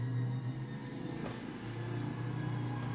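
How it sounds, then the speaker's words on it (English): A Pontiac Firebird engine in a racing video game hums with a steady mid-pitched drone that stays even throughout, quiet and continuous, with a faint rumble underneath. "This is the Pontiac Firebird"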